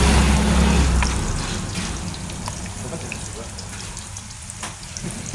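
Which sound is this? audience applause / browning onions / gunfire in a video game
browning onions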